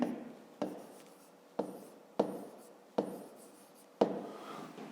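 A pen writes by hand on paper during a fifth-grade maths exercise, with six separate scratchy strokes, each starting sharply and fading, spaced roughly evenly and heard up close in a quiet room.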